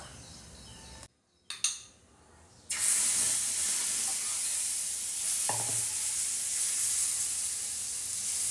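Besan chilla crisping on a hot pan gives a soft, steady sizzle broken by a brief clatter and a short quiet gap, then settles into a louder, even hiss of frying.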